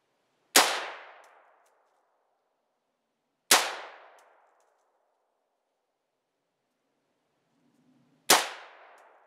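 Three sharp, ringing metallic clangs from AR-15 rifle rounds striking a steel target, spaced a few seconds apart and heard from a distance, each ring fading quickly into silence.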